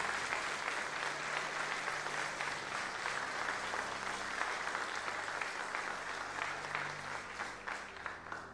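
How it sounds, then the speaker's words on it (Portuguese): A church congregation applauds continuously during a worship service, a sustained wash of many hands at moderate distance that thins slightly toward the end. "Aplauda ao Senhor e glorifique o seu nome."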